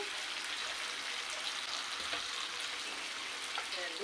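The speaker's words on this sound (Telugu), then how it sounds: "ఇప్పుడు టమాటో పేస్ట్ వేసుకుందామండి ఇవి కొంచెం పచ్చివాసన పోయేంత వరకు ఫ్రై చేసుకోవాలి" Tomato paste fries in a pan, giving a steady, close sizzle with faint crackles and occasional stirring scrapes throughout, with no talking.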